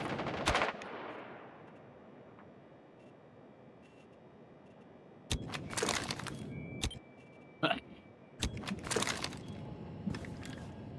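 Gunfire in Rainbow Six Siege, with sharp bursts of shots arriving in separate rapid clusters after a long quiet stretch, loud and close, with no talking over them.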